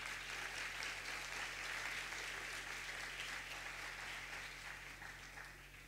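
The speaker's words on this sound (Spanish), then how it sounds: "Vamos a darle un fuerte aplauso." A lecture audience gives a strong round of applause for a psychoanalyst being introduced at a conference on psychoanalytic technique, with dense sustained clapping from many hands that slowly fades toward the end, no talk over it.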